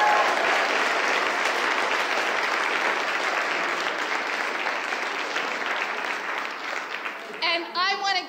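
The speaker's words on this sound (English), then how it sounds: "I just want us all to give a great round of applause for everyone here." An audience at a university raft debate breaks into loud, sustained applause that fills the room and fades slightly toward the end, where a voice begins speaking over the last claps.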